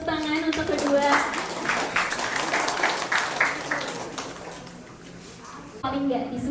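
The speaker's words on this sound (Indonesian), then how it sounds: "Mari kita berikan tepuk tangan untuk kedua." An audience at an engagement event applauds in a burst of clapping that swells then fades, with a voice speaking at the start and again as the clapping dies away.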